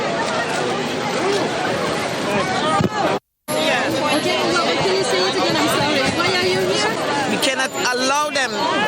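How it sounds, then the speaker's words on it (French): A crowd of people waiting behind a security barrier outside the Sofitel, including union representatives, fills the scene with dense overlapping chatter and murmuring voices, briefly cut by a second of silence. "Et elles viennent grossir les rangs de la foule qui attend."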